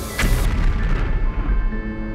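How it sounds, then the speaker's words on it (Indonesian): A sudden, loud, deep boom like a cannon firing hits at once, then rolls into a heavy rumbling decay that fades over about two seconds, with no voices. "suara dentuman keras mengguncang udara, seperti meriam ditembakkan."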